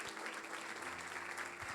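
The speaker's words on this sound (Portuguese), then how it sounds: "uma forte salva de palmas para Jesus" Congregation applause during a Brazilian church service, a short burst of steady, fairly faint clapping from a crowd, with no talk over it.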